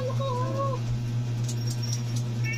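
A cat meows in a few drawn-out, wavering cries close by, then falls quiet over a steady low hum.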